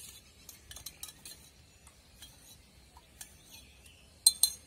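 A spoon stirs honey and turmeric into lukewarm water in a glass, making faint, light clinks and taps scattered through the quiet, with two sharper clinks near the end.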